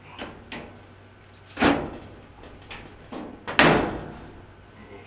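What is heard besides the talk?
closing the top panel of a Whirlpool dryer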